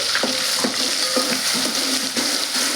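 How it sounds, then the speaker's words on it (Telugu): Chicken curry masala frying in a pan, a loud steady sizzle with regular spatula scrapes and taps against the vessel, close up. "ఇది కొద్దిగా పచ్చివాసన పోయేంత వరకు వేయించుదామండి"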